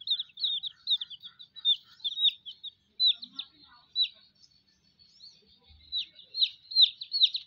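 Rainbow chickens chirp and peep in quick, high bursts, scattered and moderately close, with brief quiet pauses between flurries.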